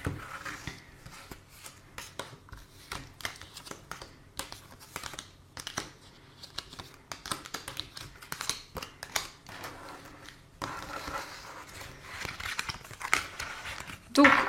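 Tarot cards shuffled and drawn: soft, continuous papery rubbing and flicking with brief snaps, fairly close and quiet, under a voice talking.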